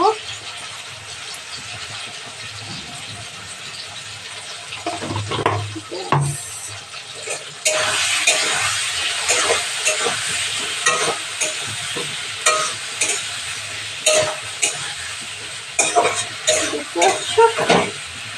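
Ginger paste and cumin powder fry in a pan with a steady hiss that swells louder partway through, broken by repeated scraping stir strokes; a voice talks over it at times.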